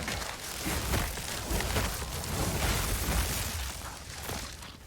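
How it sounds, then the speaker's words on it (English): Dense, continuous crackling bursts and pops from Orb of Storms lightning explosions in the action RPG Path of Exile 2, a busy rumbling barrage of overlapping blasts with no speech. "Seems like it might be working. There's like so many explosions."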